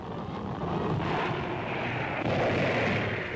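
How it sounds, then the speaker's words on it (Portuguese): Naval guns of the cruiser USS Savannah fire at a beach during the World War II invasion of Italy: a dense, continuous roar of heavy rumbling blasts, loud and sustained with no talk. "A heróica tripulação do Savannah continua a atirar contra a praia"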